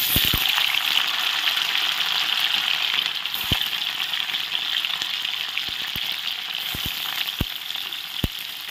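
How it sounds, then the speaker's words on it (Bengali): Paneer frying in hot oil, a loud, bright, continuous sizzle close up, with a scattering of sharp ticks and small clicks from spatters and utensil contact throughout, no voices. "তেল গরম হয়ে গেছে, তেলে এখন পনির দিয়ে দেব। পনিরগুলো ভালো করে ভেজে নেব।"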